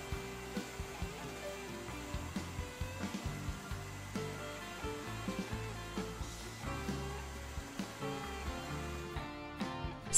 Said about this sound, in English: Leave the varnish to dry for 24 hours or dry it with a hairdryer.